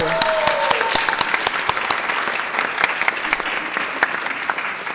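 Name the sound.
board meeting audience clapping for fundraising total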